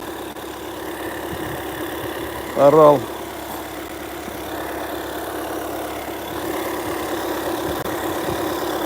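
A cold 2.0 TDI diesel engine in a 2021 VW Passat runs at a steady low idle throughout, with a brief spoken word cutting in near the start.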